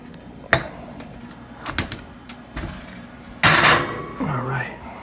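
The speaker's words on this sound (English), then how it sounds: "So we're going to stick it in the oven now." Cheesecake pie crust going into a kitchen oven: a few separate clunks and knocks from the oven door and rack, then a louder rattling scrape near the end, with some quiet talk in the background.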